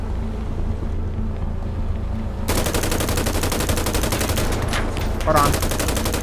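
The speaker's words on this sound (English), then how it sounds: "I'm getting shot at" Rapid automatic gunfire in GTA 5 erupts after a quieter engine-like rumble, then sustains as a dense, loud burst of shots with a brief voice speaking near the end.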